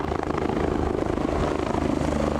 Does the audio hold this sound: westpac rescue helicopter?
yes